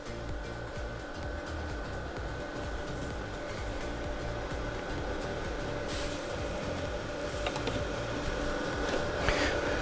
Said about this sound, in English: This one just kind of started spinning those fans. They're spinning at a good rate, putting a lot of air through.